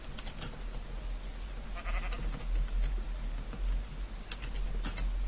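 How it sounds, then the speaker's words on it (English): Sheep bleat in the Minecraft video game: several short, faint bleats over a low background hum, with a soft tapping like keyboard clicks in between. "I'm trying to get the sheep over here."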